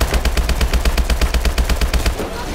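Sustained automatic weapon fire in Call of Duty: Advanced Warfare, a fast, evenly spaced burst of loud close shots over a low rumbling battlefield bed, easing off near the end.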